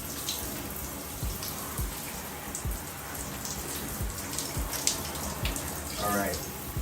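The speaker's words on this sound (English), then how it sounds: "just wash them out, about 10 more seconds" Selvedge denim jeans (APC Petit New Standard) rinsed under running water, a steady close splashing and trickling with irregular drips and slaps of wet fabric.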